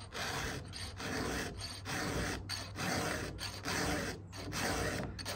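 A hand file rasps across a chainsaw chain in steady repeated strokes, about six even passes with short pauses between, close and fairly loud with no talking.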